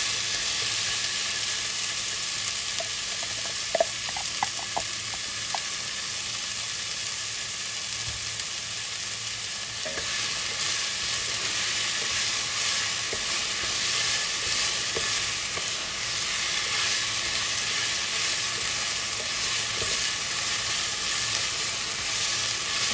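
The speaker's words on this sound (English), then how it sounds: "just give that maybe 5 minutes just to saute," Food sautés in a pan with a steady, even sizzle that runs the whole time, broken now and then by light stirring and small clinks, with nobody talking.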